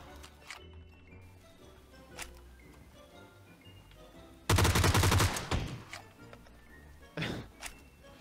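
Gunfire from a PUBG match on the snowy Vikendi map: scattered distant shots, then a loud close burst of rapid automatic fire, followed by a few more single cracks.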